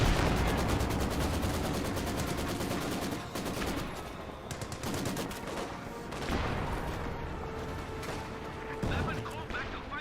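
Maxim machine gun firing in Company of Heroes 2, rapid rattling bursts amid dense gunfire and artillery, loud and sustained for several seconds, then easing into scattered shots and explosions with voices underneath.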